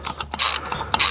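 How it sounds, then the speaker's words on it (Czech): A ratchet wrench loosens the chainring nuts on a BMW F800 GS motorcycle, giving loud, close, rapid pawl clicks in two quick runs with a brief gap between. "Povolíme všech 6 matic."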